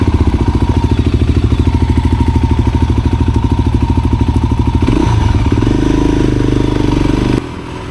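A Voge 300 motorcycle fitted with a lowering kit runs with a steady, loud engine drone and rhythmic pulsing, the note shifting as it changes speed near the end, with no talking.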